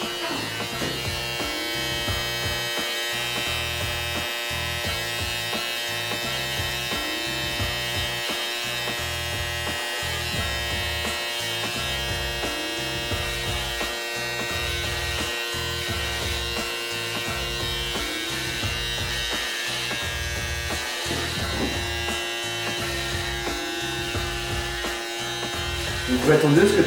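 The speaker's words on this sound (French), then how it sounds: "Donc on commence par la tondeuse de finition." A finishing hair clipper hums in a steady, close electric buzz for the whole stretch during a fade haircut, with voices talking over it.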